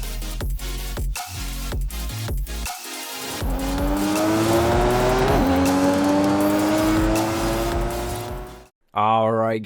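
A twin-turbo Nissan 300ZX in Forza Horizon 5 roars loudly through rising gear pulls with squealing tires, the revs climbing and dropping through several shifts before a brief cut and a fresh burst of engine noise.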